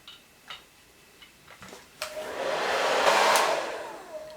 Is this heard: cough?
no